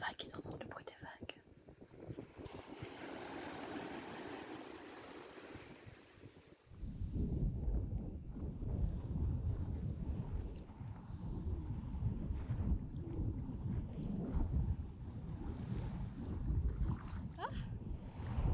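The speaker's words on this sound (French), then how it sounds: "C'est tellement relaxant de voir les vagues et d'entendre le bruit des vagues." Soft whispery noise gives way to a louder rushing wash of sea waves and wind on the Brittany coast, continuous and close.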